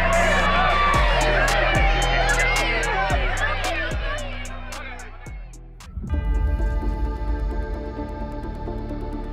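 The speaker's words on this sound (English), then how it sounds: "So it's going to be a raucous crowd tonight" Raucous baseball crowd in Boston for Mookie Betts' return, a steady roar of cheering and whoops under booming stadium music with heavy beats, then a louder surge of crowd noise.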